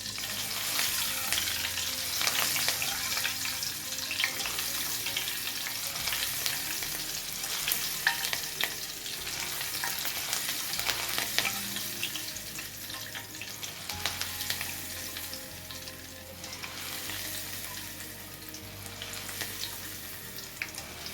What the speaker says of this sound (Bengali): তো এটাকে জাস্ট এইভাবে ডোবাবো আর তুলবো তাহলে কাঁচা লঙ্কাগুলো ফাটবে না ভাজার সময়